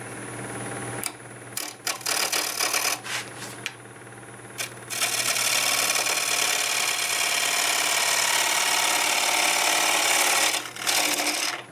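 Wet cherry wood bowl spinning on a lathe as a tool flattens its top, with a loud, steady scraping roar under a motor hum, broken by brief pauses early on before a long continuous cut.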